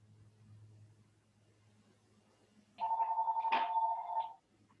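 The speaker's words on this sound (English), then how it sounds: "I'm gonna turn off that phone" A telephone's electronic ring cuts in after a quiet stretch of low background hum, sounding as one loud sustained burst for about a second and a half before stopping.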